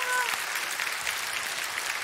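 A comedy show audience claps in a steady, moderately loud wash of applause throughout, with no pauses.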